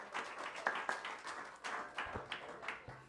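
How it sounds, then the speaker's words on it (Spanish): Church congregation clapping for the Lord during a Spanish-language Sunday service, a short burst of scattered hand claps with a few sharper individual claps, moderately faint and with no talking. "Un aplauso al Señor."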